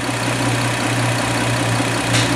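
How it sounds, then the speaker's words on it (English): Car engine idling with a substantial air leak, a steady loud low rumble with a constant drone and slight unevenness throughout, alone without talk. "We're going to watch a good running engine that has a substantial air leak"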